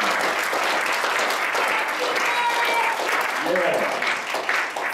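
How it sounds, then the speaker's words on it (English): A church congregation gives a big round of sustained hand clapping for two gentlemen, a dense, steady roar of applause filling the room from start to finish. "give us the biggest hand clap that you can for two gentlemen"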